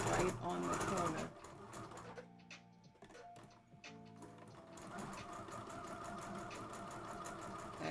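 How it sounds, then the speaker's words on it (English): A sewing machine stitches a child's dress right to the end and then back stitches, giving a steady close mechanical whir that drops quieter with a stop-start pause midway before running on again. "And I'm stitching right to the end and back stitching."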